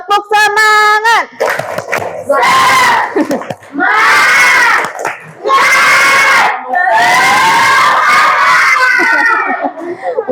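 A school class bursts into a loud, spirited clapping chant in bursts of shouted rhythmic voices and claps, several vigorous phrases separated by short pauses, with a teacher's voice at the start.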